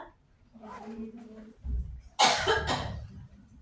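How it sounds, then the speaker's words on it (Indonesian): A person gives a couple of harsh, close coughs after a brief soft voice, the coughs loud and breathy. "Sorry ya kalau ibu suka tekan batuk."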